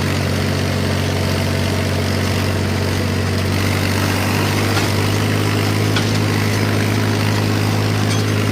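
A tractor engine under heavy load, its tires slipping on a slippery surface, a loud, constant low droning rumble with a steady hum throughout and no speech.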